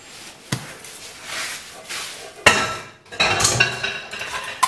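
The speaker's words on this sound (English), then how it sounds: "I am going to cut this into 8 pieces" Bench scraper cutting through sourdough pretzel dough on a work surface, giving a few sharp knocks and scraping chops, close and moderately loud, with no talk.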